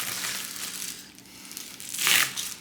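A parts bag torn open during an RC car and accessories unboxing crinkles and rustles at close range, with soft handling noise building to a louder crackling burst near the end.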